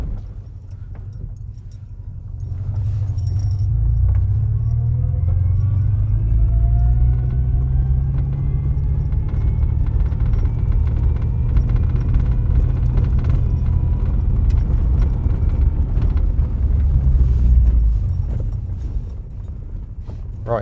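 A naturally aspirated 1997 Subaru Impreza HX-20S growls steadily on the road, a deep, loud engine drone with a faint rising whine above it that swells and eases over about twenty seconds, with no talking.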